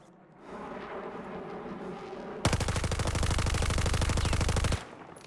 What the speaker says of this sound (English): So what you need to do is burst fire the hell out of that gun.